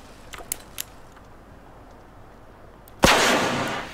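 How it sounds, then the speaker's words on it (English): A flare gun fired at a bear in The Long Dark, a single loud, close burst that flares into a sustained hissing roar after a few faint clicks in the quiet beforehand. "What if I shoot the bear with the flare gun?"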